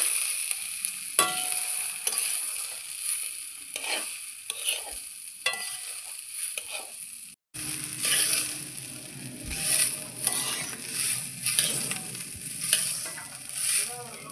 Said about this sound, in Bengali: আমি ডালটাকে ভালোভাবে ভেজে নিচ্ছি।